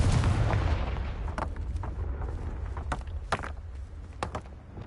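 Blasting-spell explosion cast in the Hogwarts Legacy video game: a loud booming burst that fades into a rumbling tail, followed by several sharp cracks and impacts.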